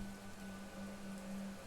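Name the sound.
rain falling in the video game Planet Crafter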